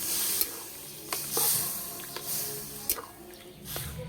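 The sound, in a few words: water added to potato curry in hot pan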